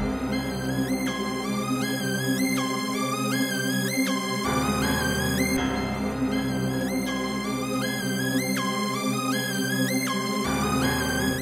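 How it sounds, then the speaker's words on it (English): A bright synth lead from the Expand Give Me an E preset, a lead patch numbered 23, plays a repeating gliding melody inside a Chicago drill beat, loud and steady over a low bass for the whole stretch. "I got the Give Me an E preset. It's a heart lead, number 23."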